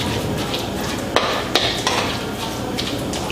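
Cooked apples being mashed into applesauce with a small spatula in a pot: soft squelching with a few sharp taps and scrapes of the spatula against the pan, close and intermittent.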